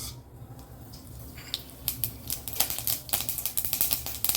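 Mustard seeds pop and splutter in a little hot oil while tempering sambar, with a quiet start followed by dense, crackling bursts of sharp pops that grow busier toward the end.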